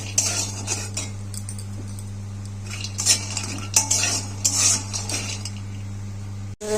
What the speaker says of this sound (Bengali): কলাটা ভেজে নেব কাঁচা কলা এবং বড়িগুলো দিয়ে দিয়েছি বড়িগুলো ভেজে নেব